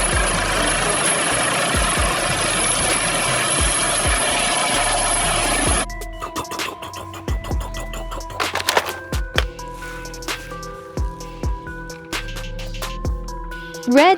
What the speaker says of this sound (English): Coast Guard helicopter.